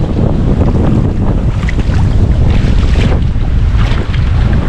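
Strong wind roars steadily across an open microphone at sea, with a constant heavy rush and the churn of water around a moving boat.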